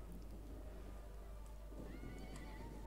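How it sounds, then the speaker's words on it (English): Horses whinny and neigh amid a battle in the Total War: Rome 2 game, a few calls over a steady low rumble of background noise, fairly faint and at a distance. "I can hear horses."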